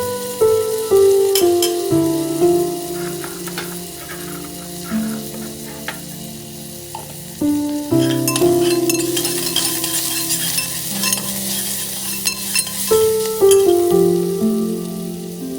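Hot oil sizzles and spits steadily as asafoetida hits the pan while asparagus cooks, a continuous close frying hiss with stirring and faint utensil clinks throughout, no one speaking.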